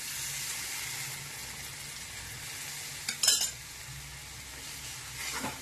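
Sambar being stirred and mixed in a pan, a steady soft sizzle and scraping with a couple of brief utensil clinks against the pan, close and without talk.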